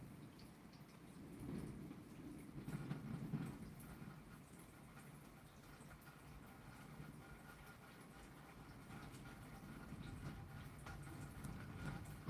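Steady rain falls throughout with low rumbling thunder swelling around the first few seconds and again near the end, a continuous moderate wash of storm sound with no talking.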